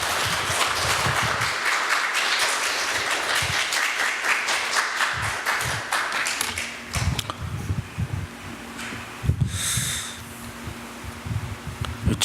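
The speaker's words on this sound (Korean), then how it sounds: "우리 박수로 우리 함께 환영하겠습니다" A church congregation claps to welcome a visiting missionary preacher to the pulpit, with dense, steady applause filling the room for about nine seconds before thinning out into scattered claps and faint room noise.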